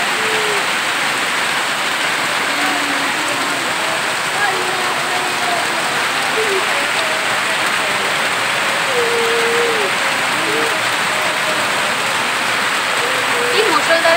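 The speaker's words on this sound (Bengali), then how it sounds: "কি মুষলধারে বৃষ্টি।" Heavy torrential morning rain pours down in a dense, unbroken roar that stays loud and even throughout, with faint voices now and then beneath the downpour.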